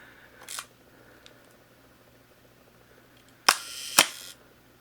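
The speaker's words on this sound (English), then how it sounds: "We can see, watch the shutters operate." A Nikon F film camera shutter fires close up with sharp mechanical clacks: one faint click early on, then two loud snaps about half a second apart, with a short whirring tail, in a quiet room.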